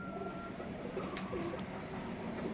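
Pigeons at a pigeon farm in Keshabpur, Jessore, coo softly and intermittently against a steady, faint outdoor background, with no voices.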